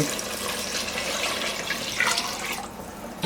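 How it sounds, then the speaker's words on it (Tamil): Water poured into a cooking pot for chicken biryani, a steady rushing splash of liquid, close and continuous, briefly tapering near the end. "நல்லா வதங்கிடுச்சு நம்ம தண்ணி ஊத்திடலாம்"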